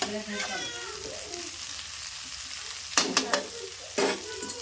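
Green chilies frying in hot oil in a home kitchen, a steady sizzle broken by a few sharp bursts of stirring or spattering near the end, with no one speaking.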